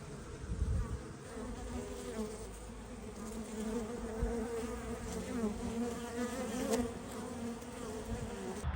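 Honeybees buzz steadily around a hive being fed sugar over winter, a dense, continuous close-up hum with no voices.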